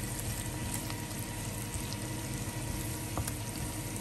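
Beef tenderloin steak being stirred with oyster sauce in a Ninja Foodi, giving a steady wet sizzle with soft scraping and stirring noises, close and continuous with no speech.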